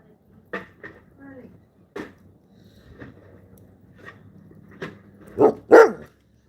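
Dogs barking in short bursts, a few scattered barks early on and two louder, closer barks near the end, amid faint background sound.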